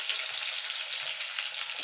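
Eggplant pieces frying in oil with salt and turmeric, a bright continuous sizzle close by, even and unbroken with no voices.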